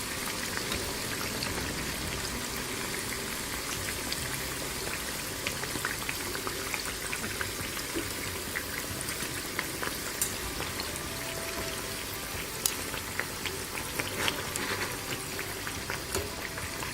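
Moong dal sweet balls deep-fry in hot oil, a steady dense crackling sizzle with scattered pops that runs evenly throughout, close up and with no talking.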